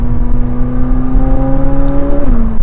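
A loud, close turbocharged supercar engine, a McLaren 750S or Ferrari 296 GTB, drones steadily with rising whine while accelerating, then the pitch dips as it shifts, a strong mechanical roar throughout.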